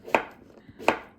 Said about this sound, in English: I'm just going to cut it in small pieces because everything else is going in kind of in small pieces